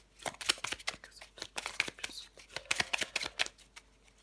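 Tarot cards being shuffled by hand, a run of quick, crisp riffling and slapping bursts in an irregular rhythm, close and fairly loud, with no talking.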